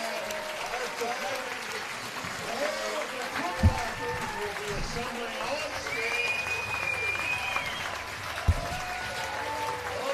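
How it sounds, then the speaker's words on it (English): A baseball crowd gives a standing ovation, sustained clapping and cheering filling the ballpark with a few sharp bangs, while a person talks over it. "the fans are giving him a well-deserved standing ovation"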